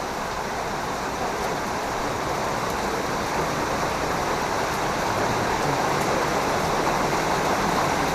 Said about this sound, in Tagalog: So malakas ang ulan ngayon.